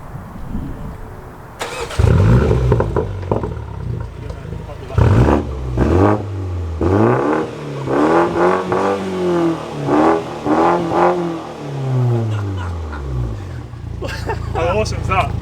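A BMW F40 M135 fires up and revs through a Cobra Sport stainless steel exhaust, with a sharp start followed by several rising and falling throttle blips, loud and close, ending in a steady idle.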